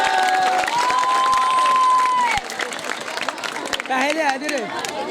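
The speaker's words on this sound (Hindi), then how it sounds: "भरपूर तालियां इनके लिए" A crowd at an Urdu speech competition for Iqbal Day applauds and cheers, loud sustained clapping mixed with shouting and a sustained tone early on, then children's voices call out over thinning applause.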